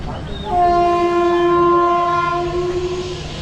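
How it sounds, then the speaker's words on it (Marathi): Mandovi Express arriving at a Konkan railway station on the Sangameshwar route, a loud sustained multi-tone horn blaring for about three seconds over the rumble of the rolling train, close by. "गाडी आलेली आहे मांडवी एक्सप्रेस"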